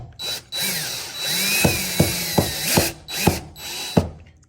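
Cordless power drill driving screws into a sofa armrest tray table, with bursts of whirring motor separated by brief pauses and sharp clicks as each screw seats; close and fairly loud, with no talking.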